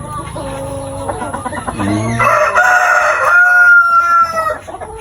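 Black Australorp hens and a rooster clucking and crowing up close and loud, with one long crow rising and trailing off over scattered hen calls.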